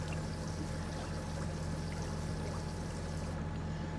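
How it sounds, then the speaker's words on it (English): A water tanker fills up with water in the Farming Simulator 25 video game, a steady continuous rushing pour with a low hum underneath, constant and fairly loud without talk. "the water tanker is filling up with water"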